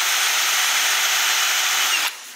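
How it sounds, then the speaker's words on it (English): A power drill spins steadily and loudly up close while adjusting the gauge cluster of a Suzuki Carry, a continuous whirring that stops abruptly near the end, no voices. "Using the drill to wind it down or wind it around"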